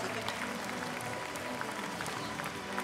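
An audience applauds an award winner at a hospitality trade-show prize ceremony, with dense, sustained clapping filling the room throughout.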